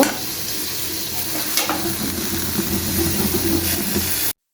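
Eggplant slices sizzle and hiss steadily in oil inside a covered pan, a close, continuous frying crackle with a faint rumble beneath that stops abruptly.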